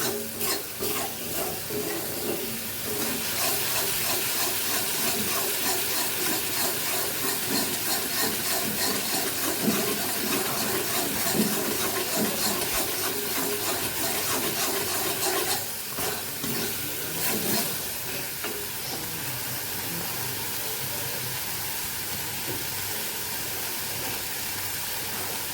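Spice paste with salt and turmeric fries and is stirred in hot oil in a pan, a dense continuous sizzle with scraping stirs, close and loud, easing slightly toward the end.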